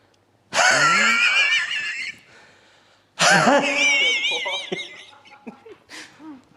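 A voice mimics a motorcycle starting, two breathy, wheezing revving bursts with a pause between, followed by faint chuckling sounds.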